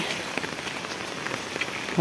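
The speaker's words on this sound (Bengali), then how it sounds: "প্রচুর বৃষ্টি" Heavy rain falls on a rooftop garden as a steady hiss of drops hitting surfaces, moderately loud, with a faint voice briefly near the end.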